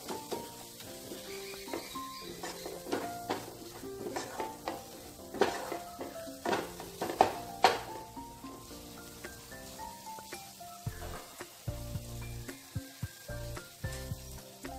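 Spice masala for brinjal pickle sautés in a pan with a steady loud sizzle and frying crackle, while a utensil stirs and scrapes against the pan in irregular knocks.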